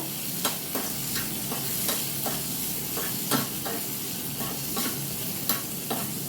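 Ingredients for Bengali payesh are lightly fried in a pan, a steady sizzle and hiss with soft scraping and stirring strokes recurring at an even pace, close and alone without talk.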